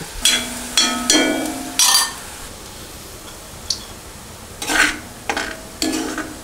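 Onions fry in hot oil while being stirred. Several short scraping, clinking bursts of the spoon against the pan come in an irregular rhythm over a faint, low background sizzle.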